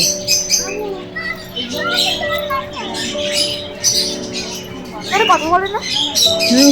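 Several birds squawk and chatter with shrill, rising calls over a steady background hum, while voices talk nearby.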